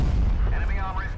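A tank cannon shot strikes a T95 in the WoT Blitz tank battle game, a heavy, loud boom with a rumbling roar that fills the whole short moment.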